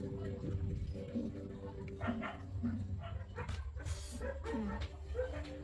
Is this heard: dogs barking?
yes